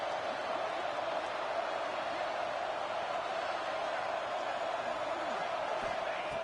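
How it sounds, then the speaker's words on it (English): Dense, steady roar of a big stadium crowd at a USC college football game, loud and unbroken throughout with no clear individual voices standing out. "this crowd is fired up. Listen to this noise here."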